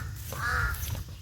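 A crow caws once, moderately near, over a steady low outdoor rumble.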